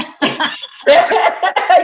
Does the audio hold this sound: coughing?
yes